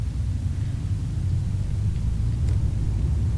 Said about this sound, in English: you can actually hear like the engine and stuff now